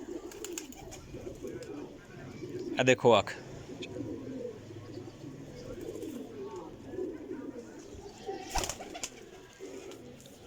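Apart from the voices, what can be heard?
pigeons cooing while being handled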